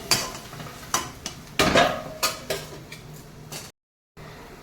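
Metal cookware clatters as a lid is set onto a pot in a home kitchen while cooking potatoes and greens: several sharp clinks and knocks of varying strength, close by, followed by a brief silence.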